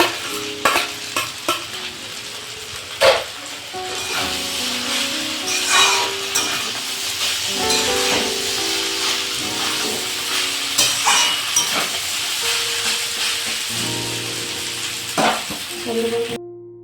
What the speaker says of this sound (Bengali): পিঁয়াজটা নিচে ভালো করে ভাজা ভাজা হয়ে গেছে এবার বাকি চাউমিনটা দিয়ে দেবো তার আগে আলুটা দিয়ে দিচ্ছি